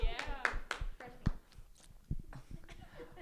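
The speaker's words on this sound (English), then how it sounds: "everyone give him a round of applause" A small group clapping for a new member of a high-school podcast, sharp close claps in an irregular burst that quickly thins out into a few scattered taps.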